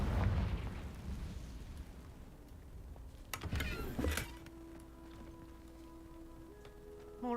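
A spell explodes in a fantasy video game, a sudden loud burst after a quiet stretch that crackles for about a second, then leaves a low hum and faint tones.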